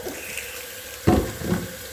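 Short burst of tap water running over the disassembled parts of a Nama J2 juicer during cleanup, starting abruptly midway with a second smaller splash after, fairly close and with no talk.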